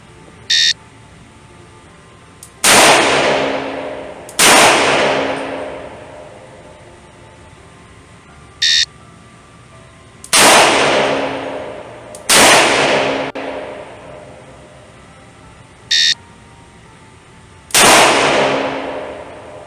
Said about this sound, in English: On command, fire 2 rounds in 2 seconds, assume the ready position